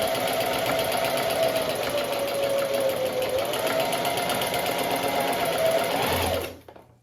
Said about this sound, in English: I'm just going to do a little zigzag stitch